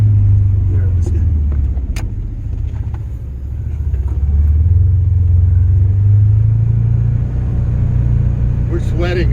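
A Can-Am Defender XT HD10 Limited utility vehicle fitted with tracks, driving with a loud, continuous engine rumble that rises and falls with throttle, heard from inside the cab. A few sharp knocks and rattles cut through it.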